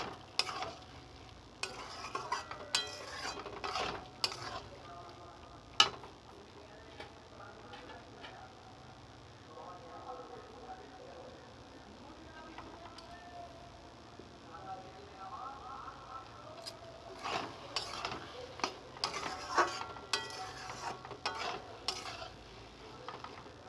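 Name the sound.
lentils and potatoes being stir-fried in a pan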